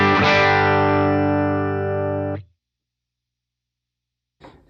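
An Eastman semi-hollow body electric guitar played through a clean signal chain with an octaver, one sustained rich chord ringing loudly for over two seconds before being cut off, then silence.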